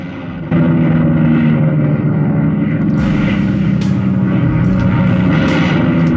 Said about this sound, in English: Stuka aircraft arrived to destroy the artillery batteries